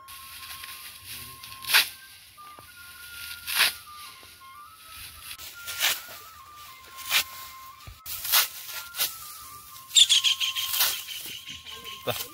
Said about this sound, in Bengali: পাখিগুলো খুব সুন্দর ডাকছে